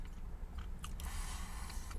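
Someone bites into and chews a big baked chicken burrito with soft tortilla, burrito sauce and sour cream, giving close, quiet crunching and moist chewing over faint room hum.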